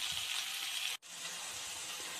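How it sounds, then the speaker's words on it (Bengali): Ridge gourd and potato stirred and fried in a kadai give off a steady, close sizzling hiss that cuts out for a split second midway, then resumes at the same level. "কিছুক্ষণ আমি এইভাবে নেড়ে একটু ভেজে নেব।"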